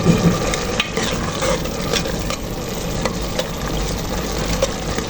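Food, a stuffed large intestine (mesrane), fries and browns in butter in a pan, giving a loud, continuous sizzle with occasional scrapes and pops and no talking.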